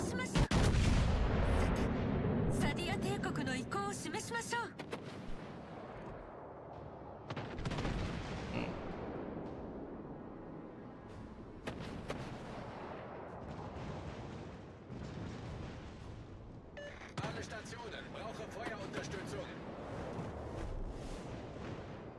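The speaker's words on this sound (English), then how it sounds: "those are incendiary torpedoes" Incendiary torpedoes from a French destroyer line explode in a naval warfare video game, with a loud opening blast followed by repeated booming impacts and crackling bursts spread over the stretch, some heavy, some fainter.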